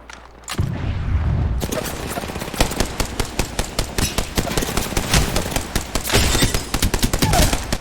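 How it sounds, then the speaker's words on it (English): Rapid automatic gunfire in Apex Legends, sustained bursts of sharp, loud shots in quick succession with a brief pause at the start, then almost continuous firing up close. "I don't stop shooting."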